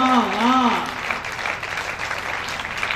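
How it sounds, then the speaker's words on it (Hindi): An audience at a Hindi comic poetry recital claps in sustained applause; a voice rises over the start of it before the clapping fills the rest. "अब लगा के थोड़ी तालियां मिली है,"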